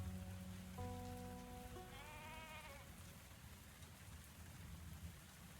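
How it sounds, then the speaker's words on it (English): Steady rain patters over a soft rumble in a video game tavern, with a bleating animal-like call and a rising tonal sweep heard briefly near the start. "Oh, I love the rain sounds."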